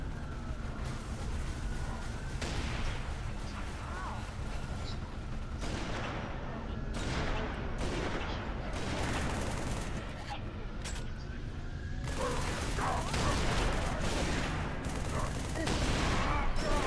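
Sustained rapid gunfire from a mounted turret in Halo co-op play, with dense overlapping bursts and booms running throughout and voices talking over the battle.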